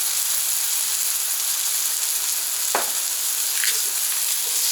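Ribeye steak and onions sizzle steadily on a Camp Chef griddle, a constant close frying hiss throughout with a brief scrape or tap of a spatula midway.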